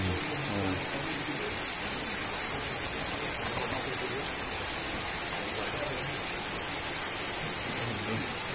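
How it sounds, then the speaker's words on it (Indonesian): Rain pours down at a brackish river during traditional net fishing, a steady dense hiss of drops with no letup, moderately loud, with faint voices underneath. "Ini udah turun hujan"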